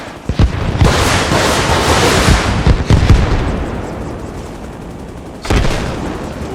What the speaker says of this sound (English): why don't we see what the rockets are like on the Huey